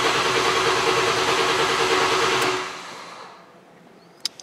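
A Ford Explorer Sport Trac engine runs with a loud, steady broadband roar that fades out over about a second, leaving near silence and a couple of small clicks.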